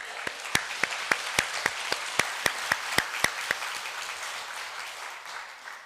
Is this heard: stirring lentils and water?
no